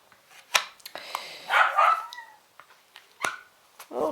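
Dogs bark sharply and whimper in short bursts, with a high whining cry rising between the nearby yips.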